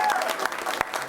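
A crowd at a Huntsville Housing Authority gathering bursts into steady applause and cheering, dense and continuous, with some voices mixed into the clapping.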